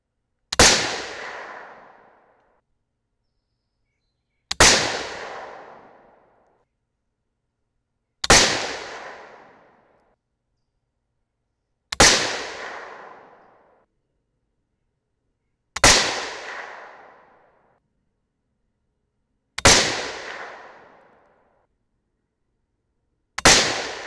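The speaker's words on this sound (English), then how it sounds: "10 shots and we had 10 hang fires" .308 Winchester rifle fired with S&B small primers and small flash holes, seven sharp loud shots spaced about four seconds apart, each with a decaying outdoor echo, no voices.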